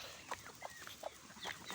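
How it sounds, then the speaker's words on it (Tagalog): Several chickens cluck nearby in scattered, irregular bursts over a quiet background. "Maraming manok dito sa amin."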